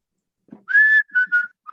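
A person whistles a short tune, one long held note followed by two brief ones and a faint final note, close and clear.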